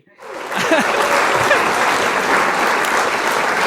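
An audience at a talk bursts into applause, dense, sustained clapping that starts abruptly and stays loud and even to the end.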